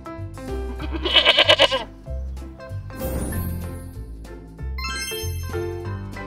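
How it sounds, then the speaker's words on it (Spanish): A goat bleats in a few wavering, jittery cries, close and loud, with bell-like jingles and a musical backing around it. "Goat."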